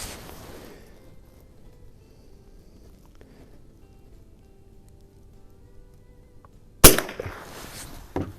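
A single sharp crack from an 1896 Schmidt Rubin biathlon rifle chambered in .22 short, fired at a 25-yard range target near dusk, breaking a long quiet stretch before a brief rattle of handling noise.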